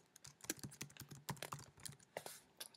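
Quick irregular clicks and taps of a computer keyboard come in short bursts, close but faint, with no voices.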